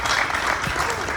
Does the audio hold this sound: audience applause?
yes